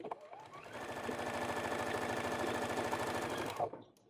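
A sewing machine stitching flannel coasters runs in one continuous rapid, even burst of needle strokes for about three seconds, close and clear, then stops abruptly.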